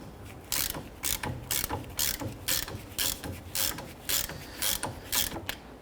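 Close ratchet clicks in quick bursts as a wrench breaks loose a 19mm caliper bracket bolt on the front brakes of a 2006-2014 Honda Ridgeline, several rapid clicking runs with short pauses between them.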